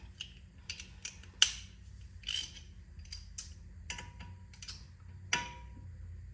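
A wrench works a brake rotor's Torx T30 star bit with sparse, faint metallic clicks and a few sharper knocks, spread unevenly and quiet overall.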